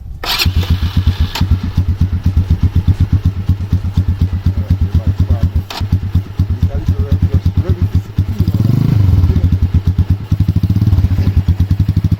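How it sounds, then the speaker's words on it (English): A motorcycle's electric starter cranks briefly, then the engine catches and settles into a steady, loud, close-up chugging idle with a slight surge partway through, while a voice talks over it. "Hold down the button till the bike starts, you let it go."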